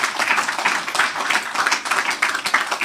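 Congregation applause at a church preaching service, a steady burst of many hands clapping that fills the whole short stretch at moderate loudness, no voices over it.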